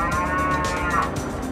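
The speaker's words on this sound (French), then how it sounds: "Il y a une vache." A cow lows loudly and close by, one sustained moo filling the moment, heard outdoors beside the old ramparts of Tallinn in Estonia.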